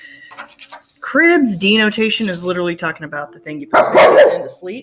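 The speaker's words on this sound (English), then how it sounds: "Sorry, that was my dog." A dog barks several times in the background, short sharp yelps heard under continuous close speech from a person giving a lesson.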